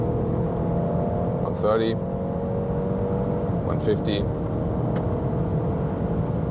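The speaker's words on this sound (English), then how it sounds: "So, are you guys ready to accelerate? From 100 kilometers an hour, let's go." A 2023 Alfa Romeo Giulia accelerating from 100 km/h, a steady engine and road drone heard from inside the car, with a voice calling out the rising speeds over it.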